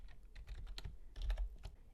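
Quick, quiet typing on a computer keyboard while code is being entered, with soft irregular key clicks in short bursts.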